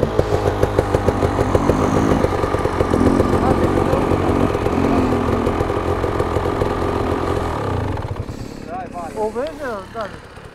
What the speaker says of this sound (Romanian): Dă-i drumul la motor și încălzește-o pic la tot.